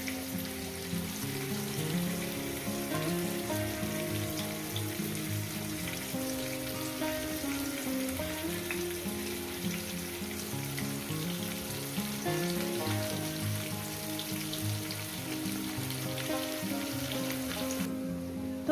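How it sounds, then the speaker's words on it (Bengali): Taro pieces fry in a pan over medium heat with a steady, close sizzle that runs unbroken for the whole stretch, over a faint tonal background. "পাঁচ ছ মিনিট আমি মিডিয়াম রেখে এই সবজিটাকে আমি ভেজে নেব"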